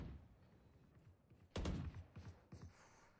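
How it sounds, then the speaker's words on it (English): Video game gunfire: a sudden burst of rapid shots erupts mid-clip after a low rumbling stretch, followed by a few more scattered shots at moderate distance. "Gunshots all around"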